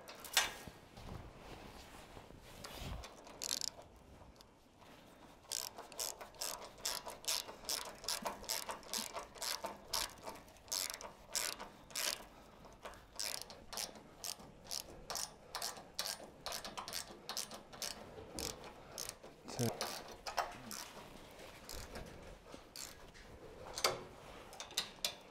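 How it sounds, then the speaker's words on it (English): Ratchet wrench tightening two lock nuts, a long run of rapid, crisp mechanical clicks in quick bursts with brief pauses between strokes, close and fairly quiet, no talk. "two lock nuts. And we'll tighten those up."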